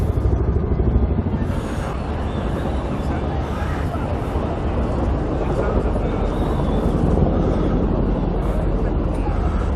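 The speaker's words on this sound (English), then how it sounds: "the noise you can hear is a Chinook helicopter over central London" A Chinook helicopter passes over central London by the tidal Thames, its broad, steady rotor and engine roar loud and continuous throughout, filling the scene with dense low rumble.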